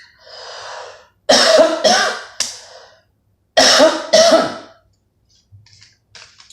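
A harsh, raspy cough, then a burst of several loud, chesty coughs in quick succession, a short pause, and two more heavy coughs, followed by quiet.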